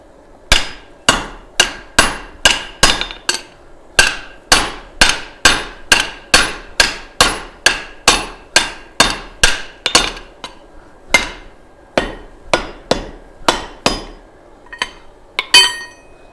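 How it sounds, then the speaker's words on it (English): Loud hammer blows ring out on hot steel while an axe is being forged, a long steady run of sharp metallic strikes with brief pauses and no talking. "You need to follow my hammer blows."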